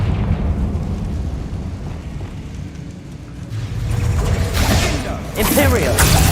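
Fire spell explosions in the video game Hogwarts Legacy, with a steady low rumble of game effects and bursts around the later seconds, loud and continuous alongside other game sounds.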